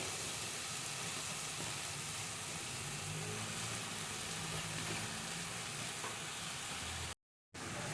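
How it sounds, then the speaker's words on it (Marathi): Spring onion greens sautéing for a Maharashtrian bhaji in a pan, a steady broadband sizzle with faint low rumble running throughout, loud and continuous, briefly cutting out near the end. "कांद्याची पात टाकल्यावर आपण भाजी पुन्हा एकदा व्यवस्थित परतून घ्यायची आहे"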